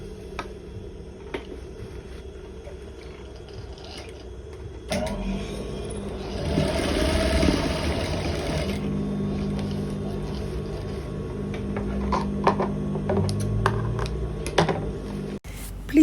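A sewing machine stitches the elastic waistband tunnel of a beginner's garment with a steady mechanical whir and hum. It runs close and continuous, picking up in speed partway through, with no talking.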